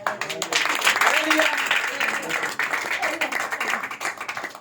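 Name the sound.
applause for Jesus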